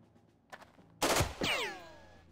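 Gunfire in the Jagged Alliance 2 video game: a soft click, then a loud, close burst of shots that rings out into a long, fading echo.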